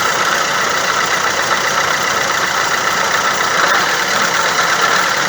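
A steady mechanical whine and hum from a running Opel Astra with a worn gearbox bearing, constant and fairly loud throughout, with no talking.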